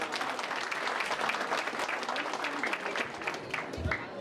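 Audience applause at a school annual day celebration in Kendriya Vidyalaya Laitkor Peak: dense, steady clapping from a crowd filling the hall for about four seconds, with a low thump near the end.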